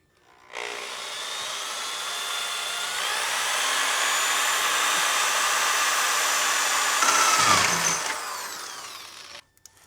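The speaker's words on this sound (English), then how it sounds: "I did drill that hole large enough, one for the fitting to go through" A power drill bores a hole for the fuel line in a Porsche 912 that has a swapped-in 3.2L engine, giving a close, continuous whirring drone for about nine seconds that strains briefly near the end, with no talk.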